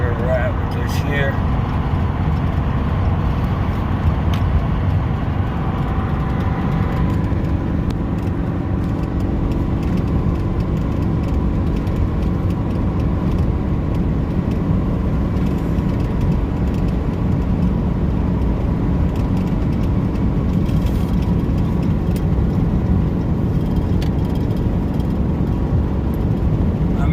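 A hotshot car hauler truck's engine pulls steadily under throttle up a 6% mountain grade, a loud continuous low drone with road and wind noise throughout.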